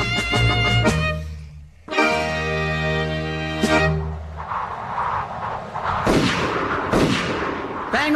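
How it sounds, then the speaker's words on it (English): Gunshots in a comedy radio sketch at a fitness club: two sharp, loud cracks near the end follow a stretch of droning tones and noisy clatter, with no talking. "You've just shot me twice."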